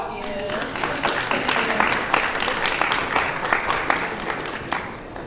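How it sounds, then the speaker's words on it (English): Audience applause for a panel at a conference summit on money, with steady clapping from a sizable crowd, close and loud throughout, no voices standing out above it. "One more round of applause for our panel."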